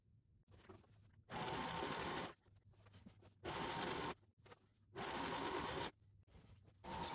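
Sewing machine stitching acoustic curtain material in bursts of rapid whirring, each lasting about a second, separated by quieter pauses with faint handling noise; close and loud, with no talking.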